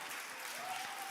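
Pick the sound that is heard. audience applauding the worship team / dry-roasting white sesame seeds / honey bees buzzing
audience applauding the worship team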